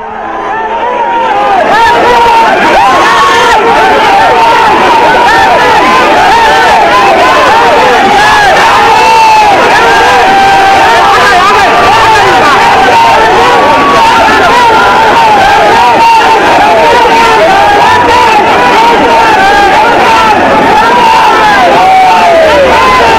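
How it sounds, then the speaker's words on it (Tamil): A large crowd of party workers cheering and chanting "Captain" in unison at a political gathering in Tamil Nadu, a loud, dense roar of repeated shouts that holds steady throughout. "அப்போது கேப்டன் கேப்டன் என தொண்டர்கள் ஆரவாரம் செய்தனர்."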